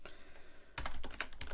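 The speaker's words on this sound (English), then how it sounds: "When touch typing fails and dyslexia kicks in." A computer keyboard is typed on at a Linux terminal, starting with faint taps and then a close, rapid burst of crisp keystrokes.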